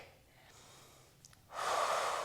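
Heavy, forceful exhalation during an intense full-body Pilates workout, a faint airy breath first, then a loud sustained rush of breath near the mic over the last second.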